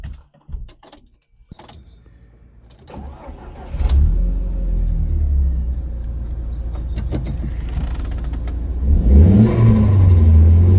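An Audi S3 engine starts with a few clicks and fires up, holds a steady rumble, then revs and accelerates loudly close by as the car sets off for a drive.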